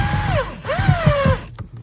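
A power tool drives a seat bolt back into a Honda Civic. It whines in two rising-then-falling bursts, with a ratcheting chatter underneath, then cuts off near the end.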